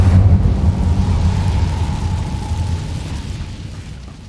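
A fire spell, Incendio, is cast in Hogwarts Legacy, releasing a loud whooshing burst of flame that rumbles on and slowly fades.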